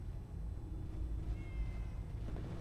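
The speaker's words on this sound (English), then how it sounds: "Meow." A cat in the Fallout 4 video game gives a faint meow over a low background hum.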